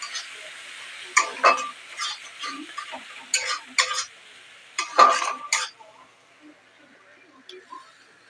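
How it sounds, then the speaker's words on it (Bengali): A spoon scrapes and clinks against a pan while tomato paste is stirred into masala for a stingray fish curry, in irregular bursts of sharp taps that fade near the end. "এরপর আমি এখানে দিয়ে দেব টমেটো পেস্ট, দিয়ে আরেকটু মিশিয়ে দেব।"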